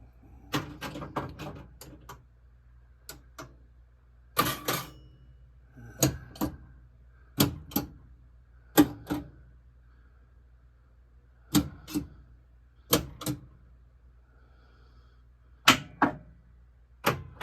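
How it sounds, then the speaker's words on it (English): Sharp mechanical clicks and clacks from a Gottlieb System 80B Bounty Hunter pinball machine's solenoids in test mode fire in irregular bursts, some doubled, over a quiet background with a low steady hum, close and fairly loud. "So you could see or hear something happening with each solenoid or lamp circuit actuation there"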